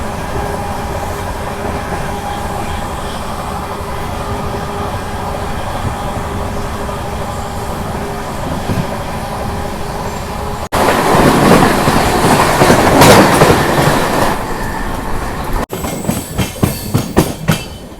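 Murdeshwar–Hyderabad Express running fast at about 130 km/h: a steady close rumble gives way to a louder roaring clatter, with sharp rhythmic wheel clicks over the last few seconds.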